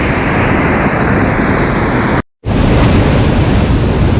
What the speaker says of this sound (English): So some fairly big swell.